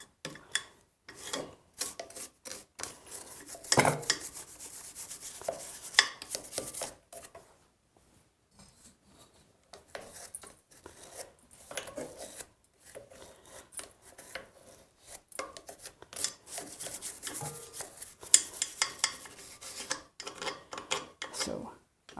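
Parched corn is ground in a hand-operated mill, giving gritty rasping and crunching in irregular bursts of turning that stop for a pause midway, then resume, heard close up.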